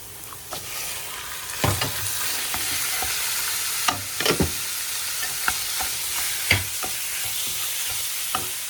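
Onions and meat sautéing in a pan for spaghetti sizzle steadily, with stirring knocks and scrapes of a utensil against the pan breaking through every second or so. No one speaks.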